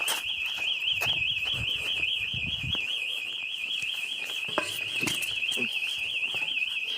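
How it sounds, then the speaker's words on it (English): An abandoned mansion's burglar alarm rings a continuous, shrill warbling tone, loud and unbroken throughout, over hurried footsteps and rustling movement as people leave. "the alarm and everything went off, so we had to get out of there really quick"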